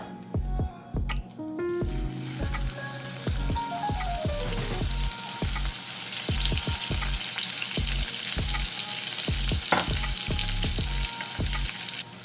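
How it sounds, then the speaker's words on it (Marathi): Asafoetida and crushed garlic with coriander dropped into hot oil for an oyster masala, crackling and sizzling steadily close up, with stirring clinks and scrapes of a spoon against the pan throughout. "आता ह्यामध्ये मी घालत आहे हिंग आणि आता आपण ह्यामध्ये घालूया हा लसूण जो आपण ठेसून घेतलेला आहे कोथिंबीर सोबत"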